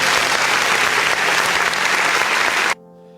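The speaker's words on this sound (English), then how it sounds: "Round of applause there as well, Dylan." Audience applause at a live show, dense and loud clapping from a crowd that holds steady for under three seconds before cutting off abruptly into quiet.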